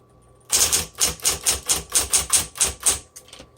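Keys clack on a 1960s Smith Corona Coronet electric typewriter in a steady, even run of about a dozen sharp, close strikes, loud and alone with no talk.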